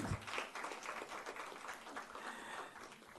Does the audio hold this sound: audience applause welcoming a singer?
yes